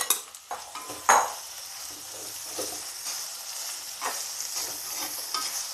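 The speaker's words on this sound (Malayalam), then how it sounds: "എണ്ണ ചൂടായി വരുമ്പോഴത്തേക്ക് നമുക്ക് സവാളയെല്ലാം കൂടെ എണ്ണയിലേക്കിട്ട് സവാള നമുക്ക് വഴറ്റിയെടുക്കാം" Onions sauté in hot oil for a Kerala-style chicken curry, a soft continuous sizzle broken by spatula scrapes and clinks against the pan, with one sharp knock near the start.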